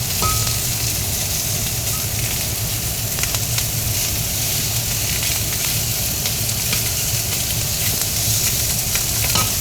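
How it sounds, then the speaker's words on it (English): Chicken wings for an oyster sauce dish sear in a hot pan with a steady, dense sizzle that stays loud and close throughout, and a few faint scrapes as the pieces are turned. "I'm just going to turn everything on the side that is not yet seared."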